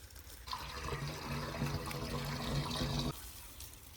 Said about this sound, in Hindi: अभी डालते हैं जी पानी।